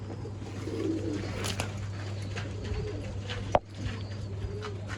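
Old-line pigeons in a Bangalore loft coo softly and repeatedly over a steady low electrical hum, with one sharp click near the middle.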